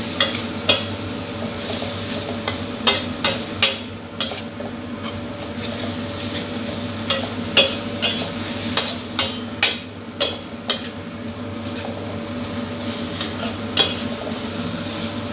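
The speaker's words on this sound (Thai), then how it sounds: "แล้วก็ ผัดคลุกเคล้าให้เข้ากันดีเลยครับ" Pickled bamboo shoots and minced pork stir-fried in a pan, with repeated sharp scrapes and clinks of a spatula against the metal over a low, steady sizzle, irregular strokes through the whole stretch.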